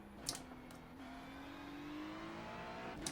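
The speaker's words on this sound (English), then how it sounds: "Who knew a V6 could sound this good? It sounds like an NSX. Oh, that turbo." A turbo V6 race car engine in iRacing accelerates with a rising whine, a few sharp clicks and blips punctuating the steady, moderately quiet engine drone.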